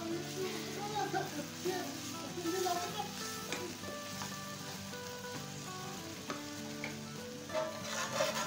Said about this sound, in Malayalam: വറുത്ത് വെച്ചിട്ടുള്ള റവ അതിലേക്ക് ഇട്ടിട്ട് ഇങ്ങനെ മിക്സ് ചെയ്തുകൊണ്ടിരിക്കുക